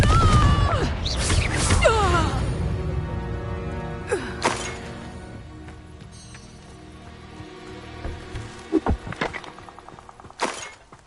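Spell-casting bursts in Hogwarts Legacy: a few sharp cracking impacts and whooshing flares, with a shattering hit near the start and smaller pops later, fairly close and loud against a quiet background.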